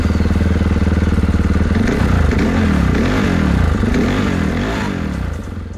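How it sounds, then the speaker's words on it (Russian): An injected 2024 Enduro Adventure F 500 motorcycle engine fires up and rumbles loudly up close, its deep, bassy exhaust rising and falling through a few revs before settling. "Звук глушителя здесь басовитый и приятный, но не сказать, что чересчур громкий."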